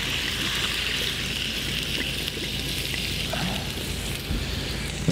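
Water poured into a pot of vegetarian potato goulash simmering over a fire in a rustic camp kitchen, a steady broadband sizzle and trickle running without a break for several seconds, close and fairly loud, with no talk over it.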